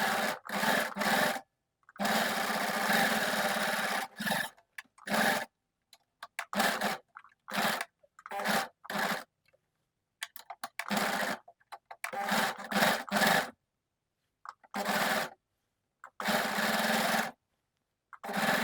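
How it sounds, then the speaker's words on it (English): A sewing machine stitches the seams of boxer shorts pocket bags with an overlock or zigzag stitch, running in loud, steady whirring bursts of varied length separated by short silent pauses. "Overlock or zigzag stitch the seam of each pocket bag."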